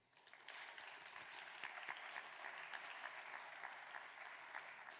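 Audience at the closing session of a national marine renewable energy conference applauds the communication team, a steady broadband clapping that starts quickly and holds evenly throughout, fairly distant and moderate in level, with no talk over it.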